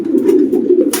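Racing pigeons coo right after arriving at the loft during a one-loft race. Their low, rolling coos are loud and close, forming a steady throaty drone, with a brief rustle at the end.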